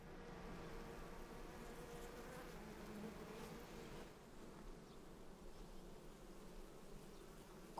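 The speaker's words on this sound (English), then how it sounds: "These are young bees, and they're out scouting." Young bees scout around a new hive, making a dense, steady buzzing hum of many wings close by, continuous throughout with no voices.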